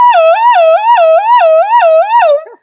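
A human voice imitates an ambulance siren, a loud, close wailing tone that rises and falls in a steady cycle about six times before trailing off.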